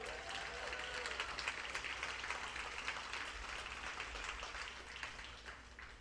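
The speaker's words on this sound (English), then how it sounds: "Big round of applause for Jeff and Neil." Steady, full applause from a large audience at a fundraising gala, a continuous wash of clapping heard somewhat distant and faint, honoring two program organizers.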